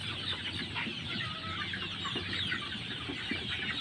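Sonali and deshi hens in a coop with fresh bedding cluck softly and continuously in the background, a faint steady murmur of fowl with no talk.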